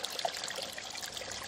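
Fresh water runs and trickles steadily while an Olympus TG5 camera is rinsed clean, a faint, even splashing stream with no talking.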